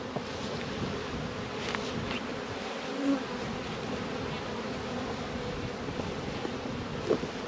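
Bees swarm at a New Zealand beehive in a dense, continuous buzzing hum, close and steady, with light wind noise and a couple of faint bumps.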